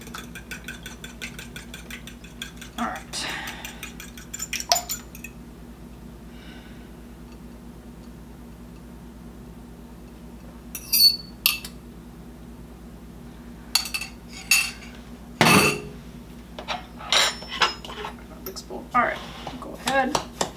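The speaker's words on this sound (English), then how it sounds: "Mix this all up well. Get it all incorporated." Oatmeal carrot muffin batter being mixed in a bowl, heard as sparse, intermittent clinks and scrapes of a utensil against the bowl, with quiet stretches between bursts.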